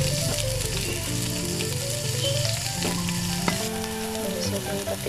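Chopped garlic, onion and ginger frying in oil in a pan, a steady loud sizzle with stirring scrapes throughout.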